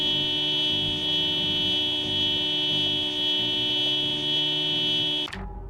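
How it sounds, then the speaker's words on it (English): A loud, steady electronic car alarm tone in the video game Project Zomboid drones continuously with a bright harmonic whine, then cuts off abruptly near the end. "No reason for a damn car alarm to be this loud this far away from it."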